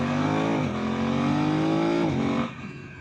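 A BMW F 900 R motorcycle accelerates hard on a ride, its engine pitch climbing steadily, dipping briefly at a gear change, then rising again before easing off at the end.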